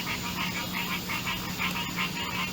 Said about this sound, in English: Here comes the frogs